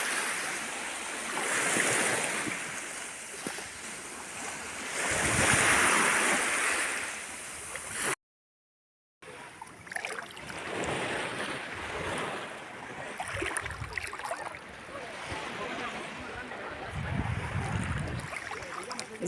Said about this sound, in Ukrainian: зранку завжди море ось таке. Таке спокійне і таке красиве.